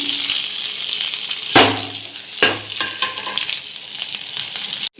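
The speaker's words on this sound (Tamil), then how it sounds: "இப்போ நம்ம கட் பண்ணி வச்ச இந்த உருளைக்கிழங்க போட்டுடலாம்." Diced, pre-boiled potatoes dropped into hot oil with mustard seeds, curry leaves and garlic, giving a steady close sizzle with two sharp bursts as pieces hit the pan, then continued frying hiss and faint stirring.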